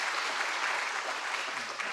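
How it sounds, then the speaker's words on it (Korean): Church congregation clapping during a Wednesday evening worship service, a steady, dense wash of applause that fills the whole moment with no break. "그러면 힘있게 박수 쳐버리세요"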